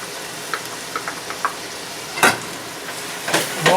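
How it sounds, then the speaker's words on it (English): Chopped garlic, shallots and peppers sauté in a pan, a steady sizzle with light spoon clicks and scrapes and two louder stirring bursts near the end, close and unaccompanied by talk. "We'll saute that for an additional 4 to 5 minutes."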